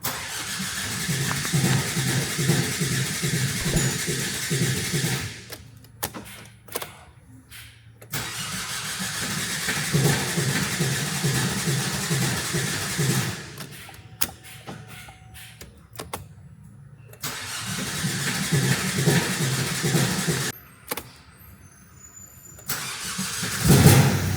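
A repaired car's diesel engine cranks and starts, then settles into a steady, close, loud idle, with the engine cutting out and restarting a few times in between and no talking.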